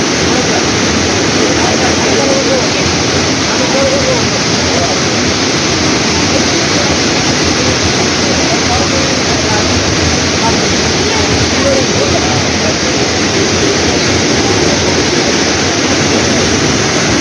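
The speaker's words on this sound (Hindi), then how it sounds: "तो कैसा लगा झरने की आवाज़" Kempty Falls, a waterfall in Mussoorie, roars in a loud, dense, unbroken wash of falling water that stays steady the whole time, with no pauses and no voices standing out above it.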